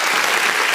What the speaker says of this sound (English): Can we drop some applause on this dad?